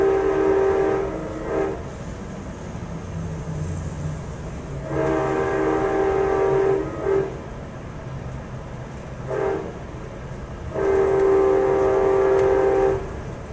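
An Amtrak Surfliner passenger train running from San Diego to Los Angeles gives a steady low rumble of wheels on rails throughout, with three sustained horn blasts rising loud over the running noise.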